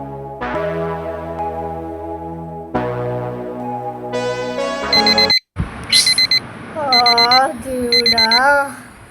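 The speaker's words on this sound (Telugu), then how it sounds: "ఎవర్రా ఈ అలారం పెట్టింది?" An alarm clock rings loudly and close. It opens with a sustained electronic melody, then after a brief gap breaks into bright repeated beeping bursts over a wavering warble.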